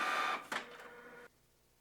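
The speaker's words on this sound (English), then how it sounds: "The box springs into life and sends data to the printer." Dot matrix printer driven by an Amiga through a Retro Printer interface, giving a brief, loud burst of buzzing print-head chatter that stops abruptly, leaving quiet.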